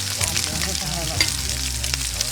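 Close, continuous sizzling of lamb chops frying in a hot pan, a steady crackling hiss with light stirring.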